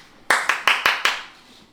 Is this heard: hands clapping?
yes